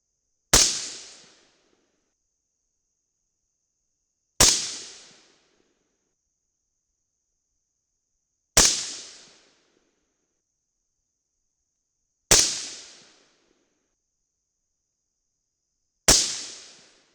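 Five rifle shots firing a Mk262 clone load with Varget powder, each a sharp loud crack with a short decaying tail, evenly spaced about four seconds apart with silence between.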